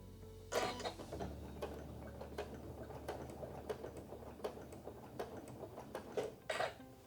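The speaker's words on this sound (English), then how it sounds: "I'm gonna start by sewing up that diagonal" A sewing machine stitching quilt binding along a diagonal, a quiet low motor hum under a fast run of soft, regular ticking clicks, with a few louder knocks near the start and end.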